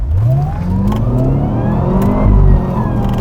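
A 564 hp Cadillac CTS-V revs hard at close range as it accelerates in first gear, pitch sweeping upward, with tyres briefly spinning before they catch grip.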